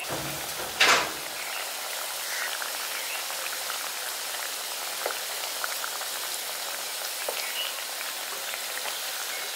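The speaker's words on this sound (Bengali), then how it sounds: "এবার আস্তে আস্তে করে এগুলোকে আমি ভাজছি" Biscuits frying gently in oil in a pan over low gas, a steady fine sizzle and crackle throughout after a brief clatter near the start.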